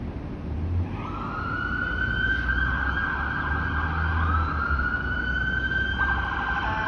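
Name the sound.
ambulance siren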